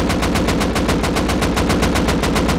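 Automatic gunfire in the video game Rust, a loud steady stream of rapid shots lasting the whole stretch with no pauses and no voices.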